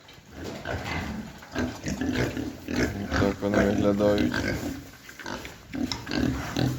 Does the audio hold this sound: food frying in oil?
no